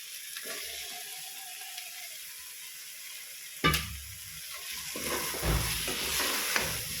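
Soybean masala being sautéed in a pan, with a constant hiss of frying, a sharp clack partway through, then stronger sizzling and irregular stirring scrapes.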